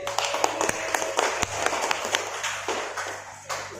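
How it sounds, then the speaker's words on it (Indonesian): Applause from a class of students for their newly elected class leader and deputy, scattered claps with sharp individual hand strikes, fairly close and moderately loud, fading toward the end. "Sekali lagi tepuk tangan untuk ketua dan wakil ketua terpilih"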